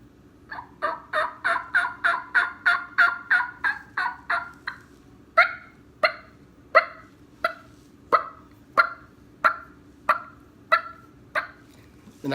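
A turkey call imitated by a person on a mouth call: a fast run of raspy yelps, then slower, evenly spaced sharp clucks, clear and close with no talking.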